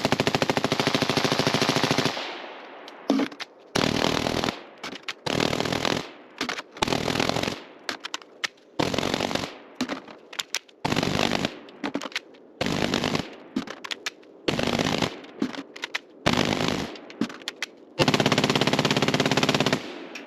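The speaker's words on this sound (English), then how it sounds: "ran another 299 rounds through it." Sustained automatic gunfire from a rifle fitted with a B&T Print XH suppressor, with long loud bursts chopped by brief pauses and a heavy continuous roar at the start and end.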